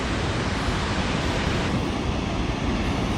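Snoqualmie Falls roars as a dense, steady wash of water noise buffeted by strong snowy wind, loud and unbroken, with no voices.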